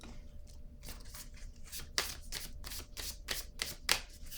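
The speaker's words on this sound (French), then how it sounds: "Ici, je vais déposer une autre carte sur ces trois-là." A tarot-style card laid down onto three others during a card reading, heard as a series of soft papery slaps and slides, fairly quiet and close, with several brief flicks spread across the stretch and no talking.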